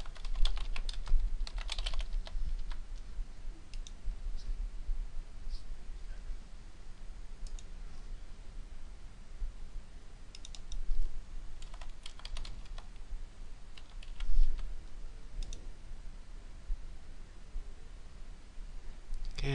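Login credentials typed on a computer keyboard in a quiet room: scattered, irregular runs of light plastic key clicks with short pauses between bursts.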